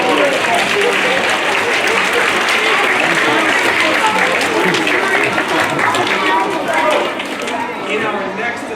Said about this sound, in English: A big applause for everybody who's taken up that invitation.